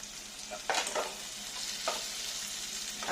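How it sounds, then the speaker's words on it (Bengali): Onions frying in a pan for a peanut butter chicken recipe, a steady soft sizzle broken by a few scraping stirs of a spatula, close and without speech. "এবার পেঁয়াজটা ভাজতে থাকবো।"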